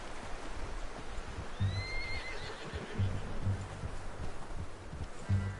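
A horse neighs and whinnies in Red Dead Redemption 2, a faint whinny with soft hoof clip-clops and rustling, quiet and somewhat distant.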